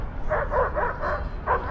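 A police dog barks excitedly in a short run of quick yips and barks in a busy underground shopping area by a subway in Chengdu, heard at a moderate distance over crowd noise.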